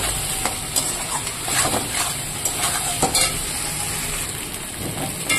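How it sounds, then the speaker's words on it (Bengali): Chili paste masala being fried and stirred with potato and eggplant in a pan: a steady close sizzle with repeated spatula scrapes and stirring knocks, no talking. "এবার আমি মশলাটাকে ভালো করে একটু কষিয়ে নেব।"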